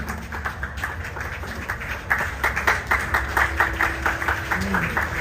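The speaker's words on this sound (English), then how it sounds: "Please give her a round of applause." An audience in a temple claps in an even rhythm, steady and moderately close, the applause building slightly toward the end with no voices over it.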